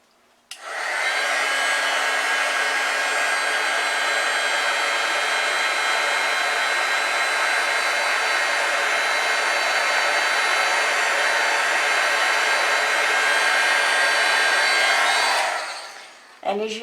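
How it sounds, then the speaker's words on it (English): A heat gun blows steadily over embossing ink on a stamped card, a loud, continuous airy whir that runs unbroken for about fifteen seconds before switching off. "I'm going to hit this with a heat gun."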